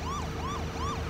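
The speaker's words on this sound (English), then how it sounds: "The fire truck, does sirens work? They do work." Fire truck siren in the video game Wobbly Life, wailing up and down in a steady repeating sweep, three cycles, loud and continuous over a low engine hum with no talking.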